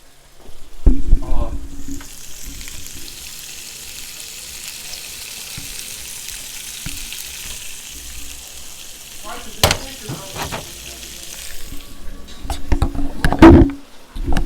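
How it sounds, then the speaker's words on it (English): Continuous hissing sizzle of sausages frying in a pan, close and steady, with a few clinks and brief bursts of talk near the start and end. "are we getting a take 2 on the sizzling sausage?"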